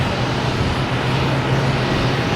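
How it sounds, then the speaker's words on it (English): A JetBlue Airbus A220 arriving from Pittsburgh at Boston Logan Airport produces a loud, continuous jet engine roar with a steady low hum beneath it. The noise is close and sustained, with no voices. "We got a JetBlue coming in from Pittsburgh in A220."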